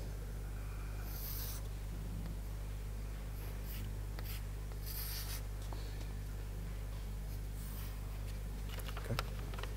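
Marker or chalk sketching on a lecture board in a heat transfer class, faint scratchy strokes in short bursts over a quiet room hum.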